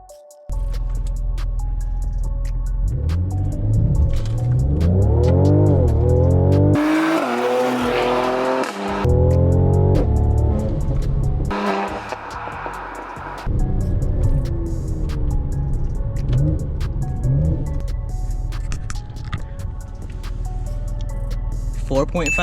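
A Mercedes C43 AMG on new tires in Sport Plus mode with traction control off launches hard, its engine rising through the gears with loud, close shifts and tire noise, while people talk in the cabin.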